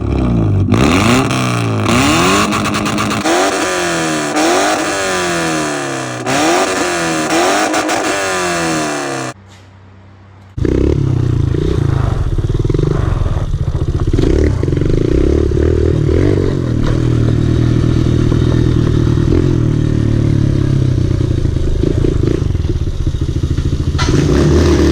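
A big bore pit bike with new plastics revving hard through repeated rising and falling throttle blips as it pulls wheelies, loud and close. After a brief drop-out, a steadier, rougher engine drone runs to the end.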